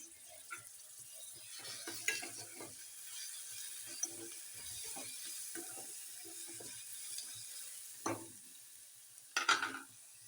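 Grated radish and green chilli fry in oil in a pan, a soft steady sizzle with scattered scraping stirs and a few sharper clatters near the end, no voices.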